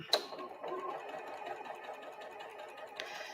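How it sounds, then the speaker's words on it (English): A sewing machine re-stitches the seam of a Weathervane Star quilt block, giving a steady, close mechanical whir that runs without a break after a short click at the start. "So I'm going to re-sew that."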